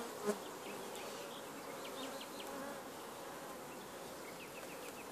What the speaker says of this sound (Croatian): Dosta mlade pčele ima.